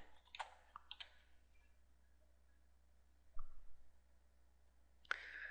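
A computer mouse gives a few sharp, quiet clicks spaced apart in an otherwise quiet room, with a couple of soft knocks in between.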